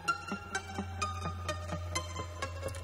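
Synth pluck group playing a melody in Ableton, short bright plucked notes in an even rhythm about four per second over a low sustained bass hum, fairly quiet and without voices.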